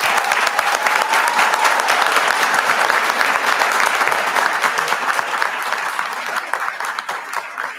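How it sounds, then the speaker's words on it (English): Sustained applause for retiring staff at a school board meeting, many hands clapping close and loud in a dense, continuous patter that eases slightly toward the end. "how about one last round of applause for all of our retirees?"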